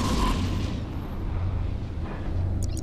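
An interceptor ship explodes in a space battle in EVE Echoes, a deep rumbling blast that fades into a sustained low roar beneath ongoing combat noise.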